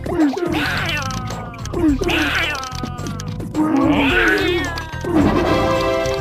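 Repeated warbling, cartoonish cries of the Pokémon Weezing from a video game, a few loud squawks in succession with rough, groaning undertones.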